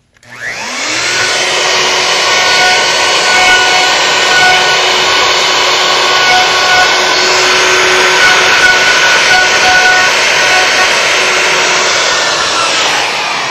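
A power router cuts wood along a template, running as a loud, steady high-pitched whine that starts abruptly and holds for the whole stretch without a break.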